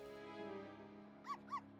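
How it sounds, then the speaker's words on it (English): Two short, clear dog barks from a dog in the Professor Layton vs Phoenix Wright video game, set over steady game music near the end. "Dog."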